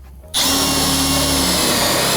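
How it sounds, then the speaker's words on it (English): A power drill fitted with a wood drill bit starts abruptly and bores a hole with a steady, loud, close whine and grinding that holds to the end. "I can drill through that little hole"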